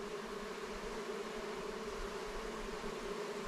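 Dense, continuous buzzing of many honey bees close by at an open hive during an inspection, a steady droning hum with no voices over it.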